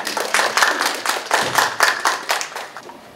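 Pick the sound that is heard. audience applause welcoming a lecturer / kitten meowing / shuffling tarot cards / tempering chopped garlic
audience applause welcoming a lecturer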